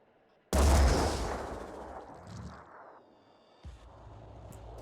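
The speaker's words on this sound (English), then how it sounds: "We can get a grenade down there as well" A grenade detonates in the tactical strategy game Phoenix Point with one loud, close blast that rolls off into a long rumbling decay, followed by a smaller thud a few seconds later.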